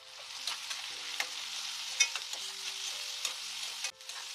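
Onion, capsicum and green chilli frying in a pan with a steady close sizzle, broken by repeated scraping stirs of a spatula.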